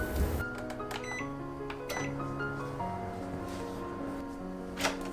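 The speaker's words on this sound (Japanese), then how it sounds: "600ワットの電子レンジで4分半加熱します" A 600-watt microwave oven heating vegetables in a covered heat-resistant container, giving a steady close hum with faint clinks and clicks over it.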